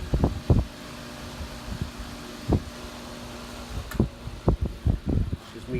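A vintage electric fan runs at high speed with a steady whirring hum, punctuated by close knocks and clunks of handling, a few sharp taps clustered near the end.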